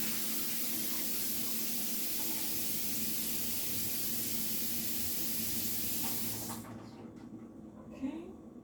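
A kitchen tap runs steadily as diced lettuce is rinsed, a loud broad hiss that lasts about six seconds and then cuts off, leaving faint kitchen clatter.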